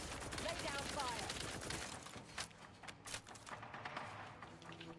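Rapid bursts of shock machine gun fire in a video game, a dense crackling rattle for about two seconds, then scattered sharper shots and impacts more quietly afterward.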